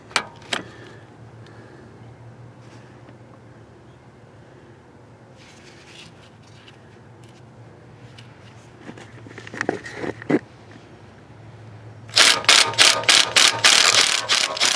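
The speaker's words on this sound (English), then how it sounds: "let's hit this with the Ugga Dugga gun and see if I get lucky" Impact wrench hammering on EGR bolts of an LS engine intake manifold; after a quiet stretch of faint shop clatter, a loud rapid burst of rattling impacts arrives near the end, close and continuous.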